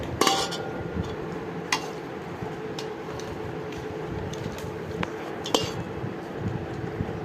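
Plates and dishes clink and knock during a home family lunch while rice is served, with sharp scattered taps over a steady murmur of background noise.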